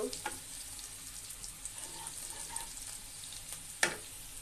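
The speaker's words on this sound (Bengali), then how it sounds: "পাঁচফোড়নটা দিয়ে একটু ভেজে নিব" Panch phoron spices fry with onion in a hot pan, a quiet, steady sizzle with a sharper crackle near the end, with no voices.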